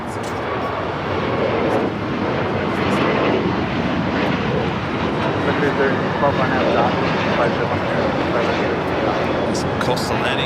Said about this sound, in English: the Neo now rolling down at 25 right